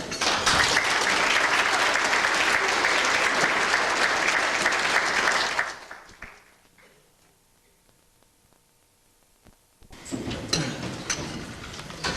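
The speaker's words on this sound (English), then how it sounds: "If you give a great big round of applause to the actors of Auburn Actors Theater" Loud, dense applause from a theater audience for the actors of a community stage production, sustained for several seconds, then dropping to near silence before a second burst of clapping starts up.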